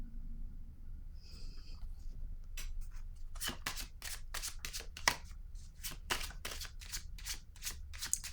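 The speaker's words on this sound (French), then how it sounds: "Je vais déposer une carte ici sur la transformation" Cards slapped down one after another onto a table at close range, a quick run of sharp dry taps after a brief pause, with a low hum underneath.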